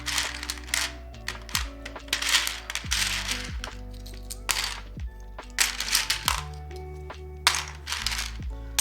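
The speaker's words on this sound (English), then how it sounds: "I love these cases, but definitely finding like one single keycap in them is too much." Dense, continuous clacking and rattling of plastic keycaps shuffled around inside a storage case, close and busy with irregular clicks and small clinks throughout, under a low background hum.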